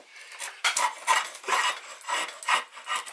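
Repeated close scraping strokes on English yew sapwood, a rhythmic rasping about twice per second, fairly loud with no voices.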